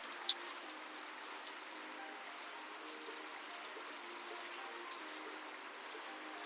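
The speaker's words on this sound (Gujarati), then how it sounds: "બહાર વરસાદ ચાલુ થઈ ગયો" Steady rain falls outside with an even, continuous hiss of drops, moderately quiet and unbroken throughout.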